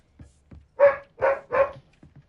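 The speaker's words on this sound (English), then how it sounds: "don't mind the background barking" A dog barks three times in quick succession, fairly close and loud, with a few softer yips or whimpers before and after, and no talking over it.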